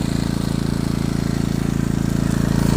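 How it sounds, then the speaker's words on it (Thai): A steady mechanical hum with a fast rhythmic throb runs continuously nearby from an air conditioner outdoor unit just starting up at a campsite, with no speech. "ตอนที่แอร์ทำงานใหม่ ๆจะเสียงแบบนี้ครับ"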